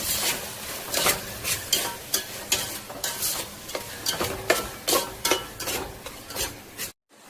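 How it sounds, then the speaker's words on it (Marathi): Capsicum and other vegetables sautéing in oil in a pan, with a steady sizzle and repeated stirring scrapes in a loose rhythm, close and fairly loud, ending in a brief silence. "आता आपण हे सगळं तेल सुटेपर्यंत परतून घेतलेलं आहे."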